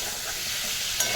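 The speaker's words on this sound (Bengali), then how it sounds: "এবার একটু ভালো করে নাড়াচাড়া করে নেবো" Pointed gourd and potato curry is stirred in a pan of spices, giving a steady, dense, close sizzle that runs the whole time, ending in a brief scrape.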